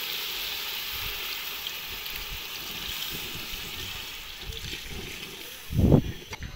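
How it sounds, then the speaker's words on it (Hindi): Water pours steadily into a cooking pot of fried chicken for chicken pulao, a soft trickling hiss ending in a brief louder splash near the end. "तो अभी हम इसमें ऐड करेंगे पानी।"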